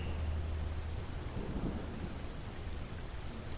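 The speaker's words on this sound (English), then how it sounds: "listening to the sound of the rain and feeling all the possibilities around you" Steady heavy rainfall during a thunderstorm, a dense hiss of drops with a low thunder rumble swelling midway, continuous and fairly close, no voices.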